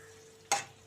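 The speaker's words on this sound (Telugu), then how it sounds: "చక్కగా వేగుతున్నాయి." Four cloves and a cardamom pod drop into hot oil in a pan, giving a sudden short burst of crackling sizzle that quickly fades against a quiet kitchen hum.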